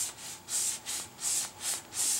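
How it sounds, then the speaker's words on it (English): A paintbrush dragged along the edges and corners of a staircase during a paint makeover, a close rhythmic bristle swish repeating about every half second with no talk. "I'm just taking the edges of the brush and just following the corner"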